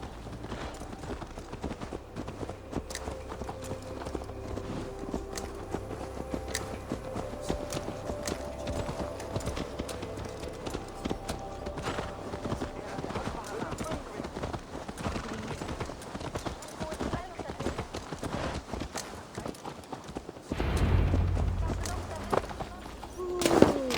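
Horse hooves clip-clop steadily in Assassin's Creed Valhalla, a continuous rhythmic trot under game music and character dialogue, with a louder burst of movement near the end.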